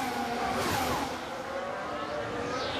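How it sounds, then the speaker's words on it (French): A Ferrari Formula 1 car at speed on the straight at Monza in the 2019 Italian Grand Prix, a continuous high-pitched engine scream with steady tone and a slight pitch shift as it runs past, heard from trackside. "Bon, allez vite la Ferrari en ligne droite."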